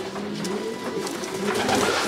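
Pigeons coo steadily at a racing-pigeon loft on the day of a 500 km competition race, a low repeated cooing close by with overlapping calls.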